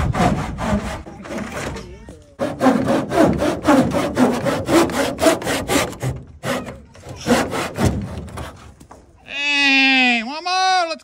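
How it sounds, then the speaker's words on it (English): Power tools cut rough-cut lumber and steel in fast, rhythmic rasping strokes with brief pauses, then a short wavering, bleat-like call rises at the end. "We got power tools being used over here."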